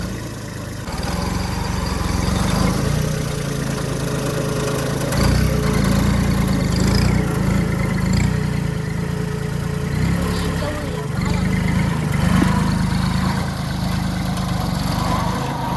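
A farm tractor engine runs steadily with a low, continuous rumbling drone, fairly close, while people talk now and then over it.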